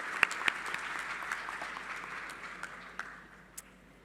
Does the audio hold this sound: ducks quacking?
no